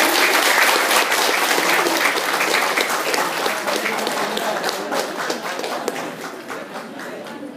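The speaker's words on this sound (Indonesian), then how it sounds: "berikan tepuk tangan yang meriah kepada pemenang lomba puisi tahun 2013" Enthusiastic audience applause for the 2013 poetry recitation contest winner, dense sustained clapping from a large crowd that stays loud throughout and tapers only slightly toward the end.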